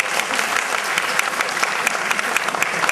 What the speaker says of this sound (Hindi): और तालियां बजाकर आपने पुष्टि कर दी, ये भी मैं समझता हूं।